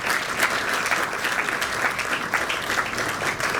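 Sustained applause from a gala audience at a philanthropy awards evening in Côte d'Ivoire, a dense steady wash of many hands clapping at once for several seconds, no voices over it.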